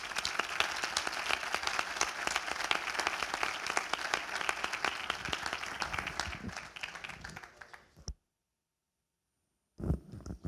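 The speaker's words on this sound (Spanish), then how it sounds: "Simplemente gracias y un aplauso para los participantes." An audience at a smart-cities conference applauds the participants, with dense, sustained clapping that fades out after about eight seconds, a brief silence, then a short burst of room noise returns at the end.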